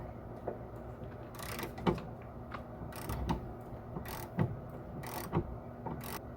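A wrench turns a rear sway bar link nut on a car, giving faint, sporadic ratcheting clicks and metallic ticks against a quiet workshop background.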